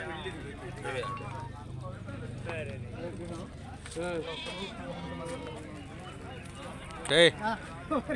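Sheep and goats bleat at a busy livestock market, scattered calls over a dense crowd murmur and ongoing talk, with a sharper bleat near the end.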